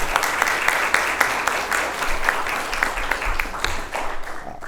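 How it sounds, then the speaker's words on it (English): Applause for Sammy Rivera at a West Haven Hispanic Heritage celebration, a steady round of clapping from the audience lasting throughout and easing slightly near the end. "let's give him a round of applause"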